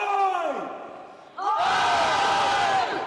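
A crowd roars and cheers as a performer takes the stage at a concert, a loud, dense wall of voices that bursts in halfway after a fading shouted call.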